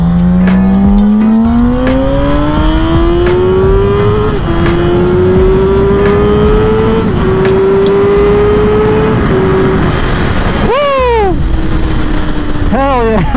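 A Suzuki GSX-R 750 motorcycle accelerates hard on a wet road, its engine note rising through several gear shifts, loud and close with wind rush, then dropping briefly before revving up again.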